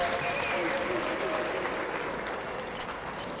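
Audience applause for sportsmen at a sporting event: dense, steady clapping from a crowd throughout, fairly loud and continuous, with a voice faintly present beneath it.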